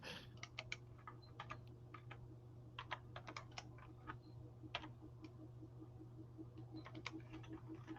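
Steady typing on a computer keyboard, quick irregular clicks and taps close by and fairly quiet, with no voices, over a constant low electrical hum.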